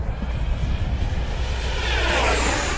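A Banana Hobby X-FLY T-7A 64mm RC jet roars at full throttle on a downwind pass, a loud rushing ducted-fan whine that swells and shifts pitch as it flies by, with no talking.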